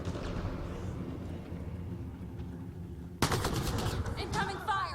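Incoming gunfire in the sci-fi shooter Mass Effect: Andromeda, a low rumbling battle din that suddenly erupts into loud, rapid bursts of automatic fire near the end.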